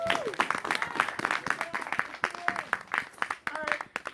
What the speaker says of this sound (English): Let's give a nice round of applause for the rapier fighters.